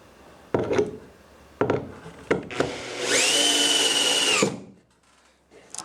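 A power drill driving screws into the wooden parts of a playhouse: short bursts of whirring and a longer steady run, with wood knocks between, close by.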